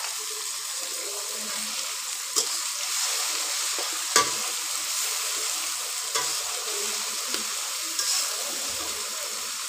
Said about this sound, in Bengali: বাটিটা দিয়ে অল্প একটু জল দিয়ে দিলাম।